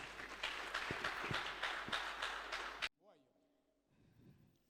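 A church congregation at a prayer fellowship breaks into loud, dense hand clapping, with a few sharp individual claps standing out, for nearly three seconds, then stops abruptly and quiet murmuring and a voice follow.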